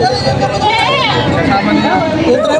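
A Tagalog buck goat gives a couple of wavering bleats close by at a goat market, mixed in with people chatting and talking over it.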